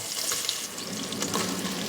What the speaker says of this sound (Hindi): और अब डाल रहे हैं सेम उसी घी में स्लाइस किया हुआ प्याज